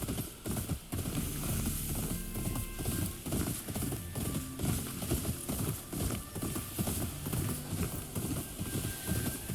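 Horse galloping at speed with a rider aboard in the video game Ghost of Yotei, a steady rapid clip-clop of hooves running continuously over a backdrop of game music and ambience, with no talking.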